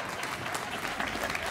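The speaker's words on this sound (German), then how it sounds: "Ich finde, das ist ein bisschen viel Applaus." An audience at a live a cappella vocal concert at Gut Rosenberg claps with a dense, steady wash of applause that stays loud and even throughout.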